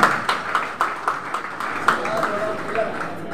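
Audience members at an Indonesian Kingmi church synod conference clap their hands in a loose, uneven rhythm of separate claps, heard alongside ongoing talk in the room.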